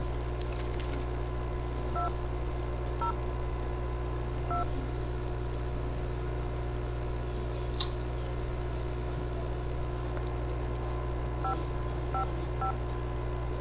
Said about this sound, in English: Should call the phone number first.